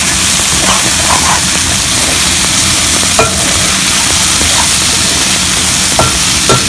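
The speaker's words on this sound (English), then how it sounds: "Fry for a minute and then add mixed veggies." Fresh-cut mixed vegetables sizzle and hiss loudly in an oiled pan for a Hyderabadi-style vegetable pulao, with constant frying noise and occasional clinks of a spoon stirring.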